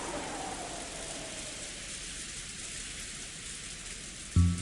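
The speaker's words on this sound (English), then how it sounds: "The silence between the two was filled by the sound of the wind and rain." Steady rain hisses and patters on a surface throughout, a dense even wash with wind mixed in, fairly loud and close, with a brief thump near the end.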